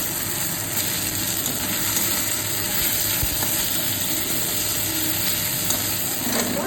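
Onion, green chili, ginger and tomato fry in a pan with a steady, close sizzle that holds for the whole stretch, with a faint stirring scrape near the middle and no talking.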